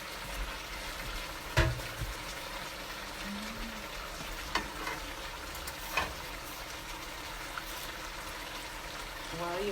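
A pot of brown stew cow foot cooking down gives off a soft, low sizzle and gentle bubbling, with a few sharper clinks or pops scattered through.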